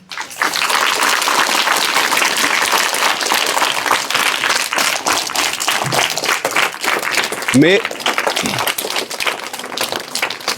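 Loud applause from a school crowd opening a quiz program, vigorous clapping that runs steadily for about ten seconds, with a brief voice rising through it near the end.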